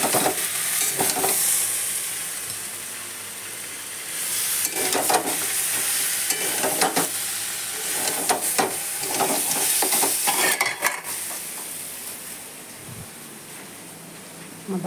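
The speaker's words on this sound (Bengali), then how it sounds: "এখন চিকেনটা কষা হচ্ছে" Chicken stir-fries (kasha) in a pan with a steady, loud sizzle. Scraping stirs and clatters come and go throughout, and the frying thins toward the end.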